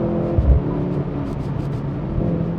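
The 680 hp Mercedes-AMG C63 S E Performance with its 2.0-litre four-cylinder hybrid engine gives a low, close engine rumble with a brief deeper burble near the start, a steady rough drone, no talking over it.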